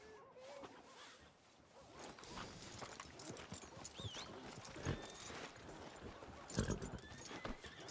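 Horse hooves clip-clopping at a steady walk in Red Dead Redemption 2, mixed with creaking tack and rustling, busy game-like sound with occasional brief tonal chirps.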